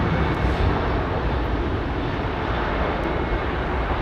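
An aircraft taking off at London Heathrow Airport, with a loud, steady, broadband engine roar that fills the whole stretch without letting up. No voices are heard over it.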